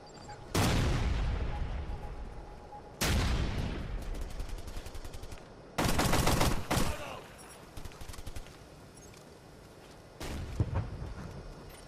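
Sentry guns in the video game Ghost Recon Future Soldier fire in four sharp, loud bursts of rapid gunfire separated by short pauses of quieter ambience.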